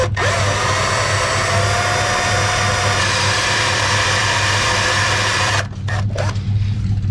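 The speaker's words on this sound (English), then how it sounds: "drilling into the frame rail" A power drill bores into the steel frame rail of a Honda CRX Si, a steady high whining grind that runs continuously up close for over five seconds, then cuts off and restarts in a few short bursts.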